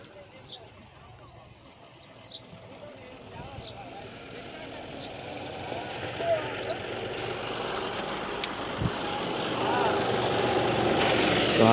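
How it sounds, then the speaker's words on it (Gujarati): A loader's engine runs steadily while loading fertilizer outdoors, a continuous low diesel rumble that slowly grows louder, with talk over it throughout. "લોડરથી ભરવાનું છે ગાઈસ, તમને લોડર બતાવી રહ્યો છું."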